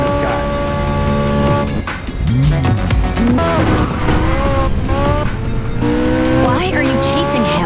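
A car braking hard in the video game Gangstar Vegas, with loud, sweeping tire squeals that rise and fall repeatedly over engine noise and game music, with someone talking over it.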